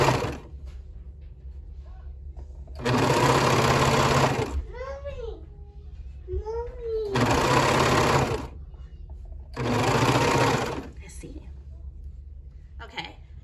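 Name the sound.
Brother coverstitch sewing machine stitching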